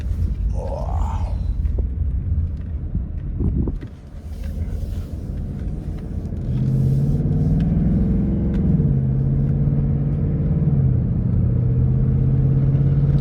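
A 2024 Ford Mustang GT in automatic drive pulls away hard from inside the cabin, a low engine drone rising and falling through shifts and growing steadily louder toward the end, with no talk.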